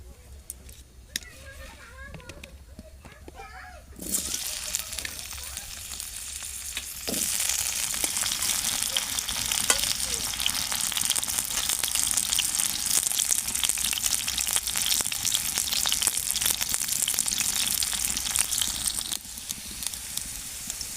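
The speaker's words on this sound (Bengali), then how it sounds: "তেল দিয়ে আমি ভেজে নেব আলুগুলো" Potato pieces fry in hot oil in a home kitchen before fish is cooked in the same pan, with a steady loud sizzle that jumps in after a quiet start and continues with occasional stirring clatter.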